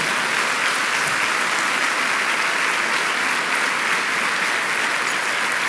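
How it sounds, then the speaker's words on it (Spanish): Loud, dense applause from a church congregation fills the whole stretch, a steady wash of many hands clapping together with no break. "Den un aplauso fuerte al Señor."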